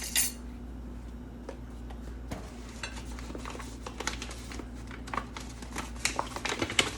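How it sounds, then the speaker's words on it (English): Light scraping and soft clinks of a utensil tossing ingredients in a bowl as Vegeta seasoning is sprinkled in, sparse taps building to busier stirring near the end over a steady low hum. "So I'm gonna sprinkle a teaspoon of my Vegeta seasoning and just flip it around in there."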